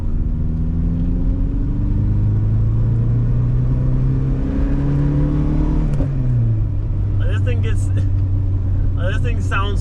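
A VW Jetta's engine and exhaust climb through the revs at high RPM in a long droning pull that dips and rises again, a loud, close rumble with a person's voice breaking in near the end.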